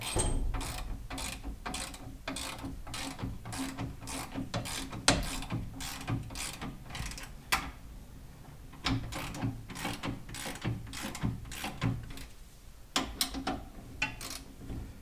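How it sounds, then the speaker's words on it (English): A hand ratchet clicks steadily while tightening the U-bolts on the leaf springs of a 2008 Chevrolet Colorado, with fast repeated pawl ticks in bursts and short pauses between strokes, close and clear with no talk. "start tightening the U-bolts"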